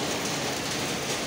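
Steady rain pours down in a wooded spot in Islamabad, a dense, constant hiss of drops hitting surfaces with no pauses and no talking.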